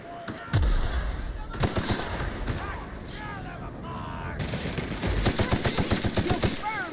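Automatic gunfire in the video game The Outer Worlds, dense rapid bursts of shots over a busy combat soundscape, with voices speaking between volleys.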